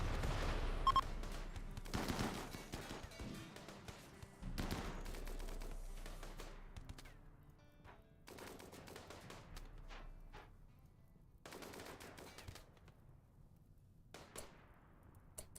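Bursts of gunfire in the sci-fi colony game RimWorld: Odyssey, volleys of rapid shots and single cracks recurring through the stretch with brief lulls between, at moderate loudness with no talk over them.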